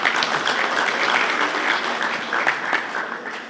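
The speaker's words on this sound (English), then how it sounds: "Please give her a round of applause." Sustained applause from an audience at a Zimbabwe awards ceremony, a loud, even wash of clapping that holds for several seconds and tapers slightly at the end.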